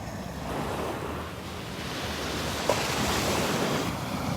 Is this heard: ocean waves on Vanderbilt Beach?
yes